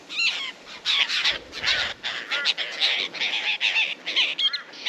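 Harsh, cawing bird calls repeat in close succession at a campground on an outback cattle station, loud and near, in overlapping bursts with little pause between them.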